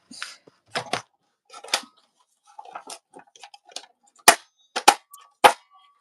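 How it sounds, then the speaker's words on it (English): An old, sticking paper punch gives a series of sharp mechanical clacks and snaps in irregular bursts, some doubled, pressed and released close by. "You can tell that punch is old because it always stuck."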